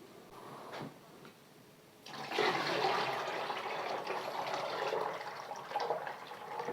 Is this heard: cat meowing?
no